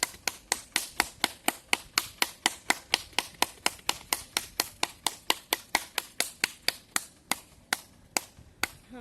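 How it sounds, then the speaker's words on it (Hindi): Hands clap loudly during a yoga session, about thirty sharp, evenly spaced claps at a brisk steady pace, close and alone, continuing without pause. "ताली जोर से"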